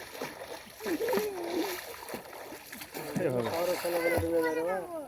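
Someone swimming and splashing in a village pond, with irregular nearby water splashes and sloshing as several people, including a child, talk and call out over it.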